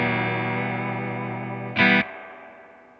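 Electric guitar played through a Supro Black Magick amp with the spring reverb set around halfway, a sustained distorted chord ringing loud with a brief louder burst near the end, then a reverb tail decaying alone.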